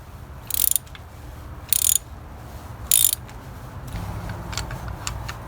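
A ratchet socket loosens spark plugs on a Toyota Camry engine, giving three short, crisp bursts of clicking, each less than a second long, followed by fainter scattered ticks over a low background hum.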